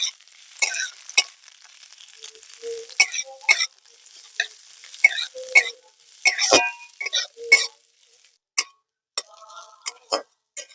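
Chopped onions and green chilies fry lightly in a pan, with a faint crackle and sparse ticking pops and scrapes in an irregular, close pattern against quiet gaps.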